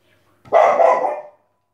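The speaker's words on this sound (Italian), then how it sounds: "zitto cane" A dog gives one loud, close bark lasting under a second, set against otherwise silent surroundings.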